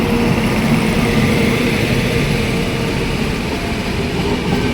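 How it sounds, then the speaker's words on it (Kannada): A passenger train on the Seshadri Express route near Tekal station roars past as a loud, continuous rumble, heard steadily from on board without any talk. "ಯಾವುದೋ ಒಂದು ಟ್ರೈನ್ ಕ್ರಾಸಿಂಗ್ ಆಗ್ತಾಯಿದೆ ಟೇಕಲಲ್ಲಿ"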